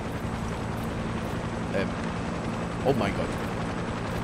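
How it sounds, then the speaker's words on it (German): A steady, droning helicopter rumble from the video game Far Cry 6 hangs in the background while a person speaks briefly over it. "Ich hoffe, der Heli sieht uns nicht."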